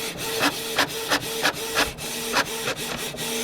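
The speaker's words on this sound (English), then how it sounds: "If you guessed a printer printing" A printer works through a page, its head sweeping back and forth in a regular rhythm of scratchy rasps with sharp clicks at each turn, loud and close with no voices.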